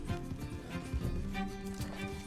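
Horse hooves clip-clop in Red Dead Redemption 2, a quick steady run of close hoofbeats over game ambience with no talk.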